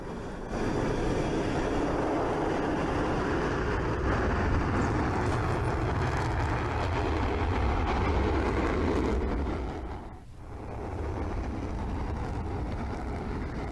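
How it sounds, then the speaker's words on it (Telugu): A loud, steady jet engine roar from Rafale fighter jets landing at Ambala Air Base, continuing without a break, dipping briefly before building again. "భారత్కి చేరుకున్నాయి రఫేల్ యుద్ధ విమానాలు"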